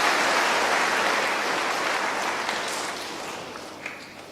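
A crowd at a night vigil in Kuwait claps for the choir, a dense burst of applause that starts loud and gradually tapers off over a few seconds.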